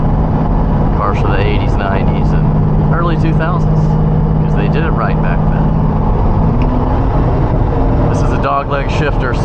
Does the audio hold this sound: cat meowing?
no